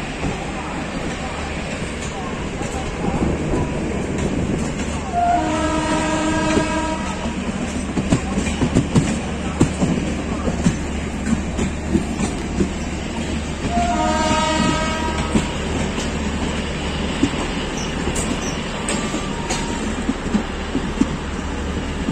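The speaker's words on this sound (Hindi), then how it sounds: "समस्तीपुर से हमारी ट्रेन खुल चुकी है और अगला स्टेशन है बरौनी" A Garib Rath Express, train 12204, runs from Samastipur toward Barauni in India with a steady loud rumble and clatter of wheels. Two long sustained horn blasts sound a few seconds apart over the continuous noise.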